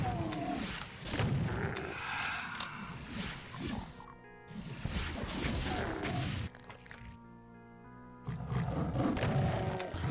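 Pinky demons in the Doom 2 beta roar loudly and repeatedly at close range, their growls layered with thuds and weapon blasts, and the noise breaks off briefly between bursts.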